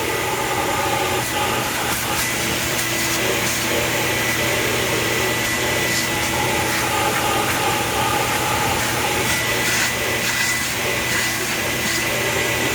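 Air roars steadily through the number one runner of a stage 2 ported 1993 Cobra GT40 intake manifold on a flow bench, a loud, continuous, even rush of air with no break.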